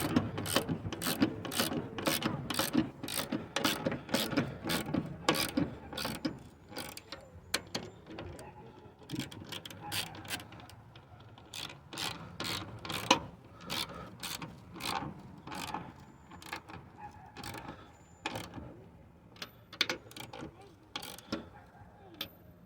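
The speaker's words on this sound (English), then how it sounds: "Just tightening up the top here on the one side." A ratchet tightening the coilover top mount on a 1993 Honda Civic, with long runs of rapid clicking in bursts that pause and resume, fairly close in a quiet garage.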